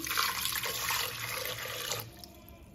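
Water running into a cooker of boiled potatoes in a home kitchen, a steady bright splashing pour for about two seconds that then tapers off, close by with no talking.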